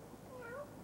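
A single short cat meow, a rising then falling cry lasting under a second, faint over a steady hiss of background noise with no talking.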